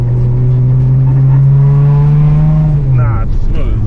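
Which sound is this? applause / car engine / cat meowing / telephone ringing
car engine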